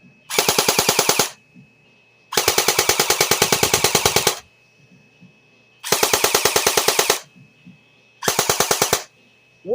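JG Mac 10 airsoft electric gun firing on full auto, four loud, close bursts of rapid mechanical clatter, each lasting one to two seconds, separated by short silences.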